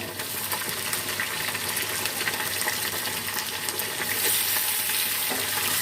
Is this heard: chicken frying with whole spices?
yes